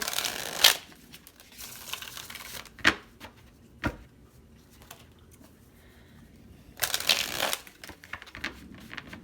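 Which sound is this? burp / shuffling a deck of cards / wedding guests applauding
shuffling a deck of cards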